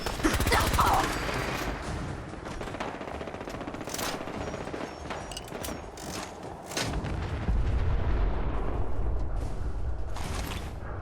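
Gatling laser firing in Fallout 4, rapid bursts of sharp repeated shots with booming impacts and mechanical whirring, loud and continuous with brief pauses across the span.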